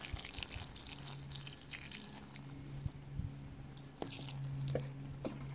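Water poured from above onto freshly patted-down potting soil in a pot, giving soft, close splashes and drips over a quiet background with a few louder trickles toward the end.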